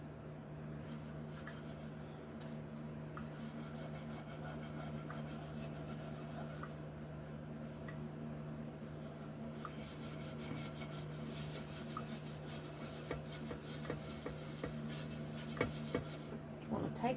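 Steel wool scrubbing a surface clean in steady, close rubbing strokes over a constant low hum, with the rasping growing busier toward the end.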